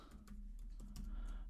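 Computer keyboard keys clicking in quick bursts while text is entered into SolidWorks drafting software, close and fairly soft, with no voices.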